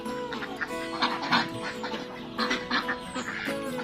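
Pekin ducks quacking in a steady, busy stream, several calls overlapping at close range against a low hum of background noise.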